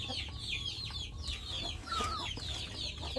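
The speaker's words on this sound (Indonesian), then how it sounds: "memberi makan dan memperhatikan ayam-ayam kampung saya ini yang sedang mengerami ya." Free-range village chickens, some of them brooding, cluck at close range while being fed rice and vegetables, with scattered short clucks and bird chirps over a steady low farmyard rumble.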